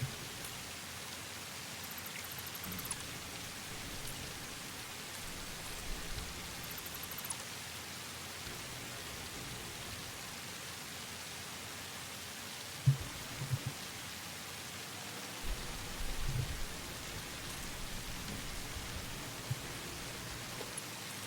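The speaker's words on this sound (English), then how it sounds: "the ambient rain effects is like, welcome to Satisfactory ASMR" Steady ambient rain from the video game Satisfactory, a soft even hiss of falling drops on surfaces that runs throughout, with a few faint knocks and thumps underneath.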